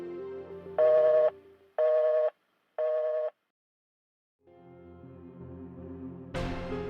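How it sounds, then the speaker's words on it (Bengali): A telephone sounds three evenly spaced electronic tone bursts, close and clear, followed by a low background rumble and a sharp noise at the end. "দেখছু বে এদিক ওদিক খালি ফোন আসছে"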